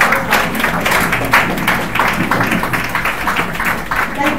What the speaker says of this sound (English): Can we please clap once again for our